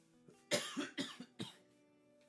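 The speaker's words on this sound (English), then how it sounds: "Let me cough real quick." A man gives a run of about four or five close, harsh coughs in quick succession, each one separate, in a quiet indoor room with no talking over them.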